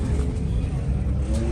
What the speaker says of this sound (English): That has to be the loudest car I've ever heard in my life, in person. Just idling